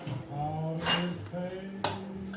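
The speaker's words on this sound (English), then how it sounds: "So let me grab myself a spoon" A spoon is picked out from among kitchenware, giving two bright metallic clinks about a second apart over a voice talking in a home kitchen during ravioli preparation.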